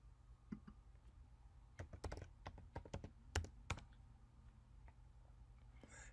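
Keys clack on a Mac computer keyboard, a scattered run of quiet, close taps that bunch into a quick burst midway, with no voices.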